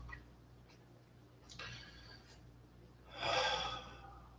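Slow, quiet breaths drawn and released during a yoga pose, two soft exhales with a fuller, airy breath near the end, close and alone in a hushed room.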